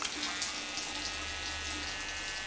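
Running water streams steadily with a soft hiss, like a shower or tap flowing close by, with no voices.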